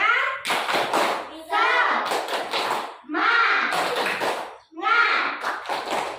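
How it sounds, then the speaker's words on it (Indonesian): A school class claps out the 'tepuk semangat' routine, four bursts of rhythmic clapping with children chanting along between them. "Ayo kita tepuk semangat dulu."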